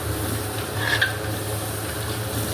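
A large pot of chicken masala for Kozhikode chicken dum biryani, with seven kilos of chicken, yogurt, mint and coriander, gets a single soft stir that scrapes briefly against a steady, loud hiss of cooking.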